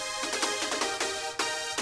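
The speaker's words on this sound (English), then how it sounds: "So going on to this brass playing the lead sounds like this." A brass soundfont layer carries a lead melody in a short run of bright, sustained synthetic horn notes with quick re-attacks, played alone.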